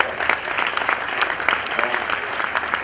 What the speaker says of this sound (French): Vous méritez ces applaudissements